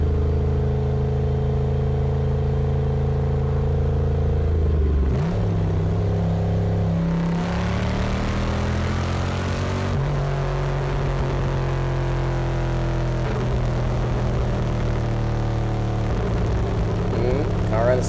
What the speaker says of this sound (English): the exhaust just sounds so damn good